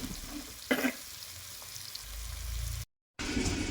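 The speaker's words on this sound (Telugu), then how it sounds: "ఇప్పుడు ఉల్లిగడ్డలు మంచిగా వేగాలి, అప్పుడే పులుసుకు రుచి." Onions fry in a pan for fish curry, a steady moderate sizzle with a brief stirring clatter early on, then a short gap of silence before the sizzling resumes.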